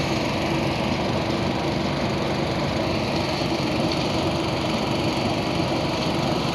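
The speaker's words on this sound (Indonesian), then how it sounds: "Ini adalah mesin perontok padi bantuan dari APBN" A rice threshing machine powered by a Honda GX200 engine runs with a steady, loud, unbroken drone and fine mechanical rattle throughout, with no talking.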